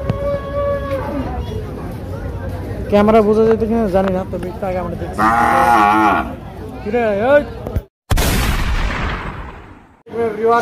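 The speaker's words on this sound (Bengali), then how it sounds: "এই যে গরুটা কান্না করতেছে" Several drawn-out cow moos, close and loud, at a cattle market in Zinzira, alternating with people talking, followed by a sharp bang near the end.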